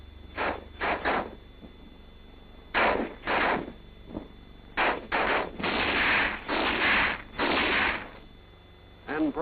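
An infantry rifle squad fires in an attack: sharp rifle shots crack singly and in quick clusters, some rattling together in short rolling volleys, loud and close with brief gaps of quiet between.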